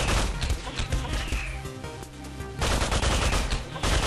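Rapid machine gun fire in the video game Megabyte Punch, loud dense bursts of automatic shots with crashing impacts, running nearly continuously with a short lull midway.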